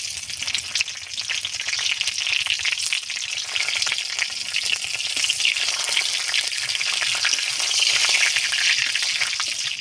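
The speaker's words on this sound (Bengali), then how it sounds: "ফোড়ন করার জন্য কড়াইতে দিয়ে দেবো সরষের তেল।" Panch phoron spices, dried red chillies and bay leaves temper in hot mustard oil in a kadai, giving a loud, steady crackling sizzle close by, with no talking.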